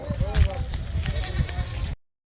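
Livestock bleating at a weekly goat market, several bleats rising close by over steady crowd chatter and voices of people bargaining.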